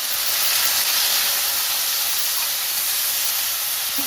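Potatoes fry in a pan with a little salt, giving a continuous, fairly loud hissing sizzle that stays even throughout with no talking.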